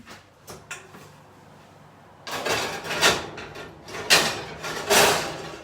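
An oven door in a home kitchen swings open and shut as pinwheels go in, giving a few medium-loud clunks and rattling knocks spread over several seconds after a quiet start.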